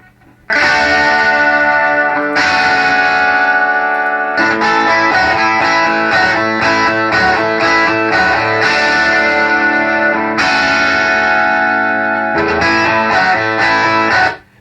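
Bright, chiming electric guitar chords in Nashville tuning with a shimmering, doubled high 12-string-like sound, played loud and steady with a few short breaks between strums.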